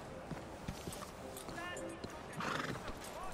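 Horse neighing and hooves clopping in the Red Dead video game, a couple of whinnies rising above steady ambient game noise.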